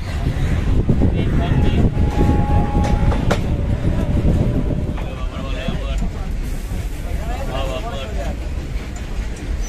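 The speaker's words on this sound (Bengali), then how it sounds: "আমাদের ট্রেন রওনা হলো বাঁকুড়ার পথে।" A passenger train sets off on the route to Bankura, a loud, close rumble and rattle of rail cars rolling along, with voices audible underneath.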